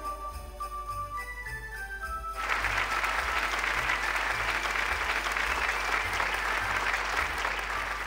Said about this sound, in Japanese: 拍手を持ってお迎えください。